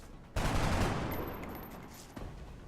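Sustained burst of gunfire from the turn-based strategy game XCOM: Long War, a loud broadband blast that starts abruptly, holds and fades, with a second sharp report near the end.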